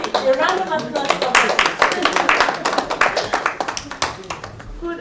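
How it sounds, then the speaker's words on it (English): An audience at a foundation event applauds with brisk, steady hand clapping that starts strong and gradually thins out, with voices mixed in. "A round of applause for"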